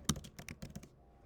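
Quick burst of typing on a computer keyboard, about eight close, crisp key clicks in under a second, then quiet.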